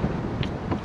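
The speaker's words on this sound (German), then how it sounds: "Boah, richtig windig." Strong wind buffets the microphone while kayaking on open water near Vejle, a dense rushing roar with gusty swells, loud and constant, with no talk.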